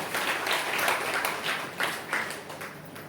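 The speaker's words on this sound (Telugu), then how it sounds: "రాధాకృష్ణమాయికి ఒకసారి చప్పట్లు కొట్టండి అందరూ" An audience clapping inside a temple, a short burst of scattered applause with uneven rhythm that swells and fades in waves over a few seconds.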